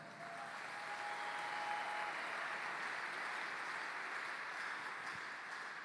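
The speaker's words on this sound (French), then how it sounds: "Acclamons le Seigneur." A church congregation applauds at a French-language service, a steady wash of clapping that carries on evenly for several seconds, moderately distant and with no voices over it.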